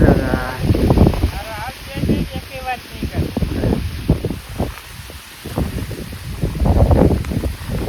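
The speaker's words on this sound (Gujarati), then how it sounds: "પવન થાય છે મિત્રો." Gusty wind blows across a rainy village field near Botad, buffeting the microphone with a rough, surging roar while someone talks throughout.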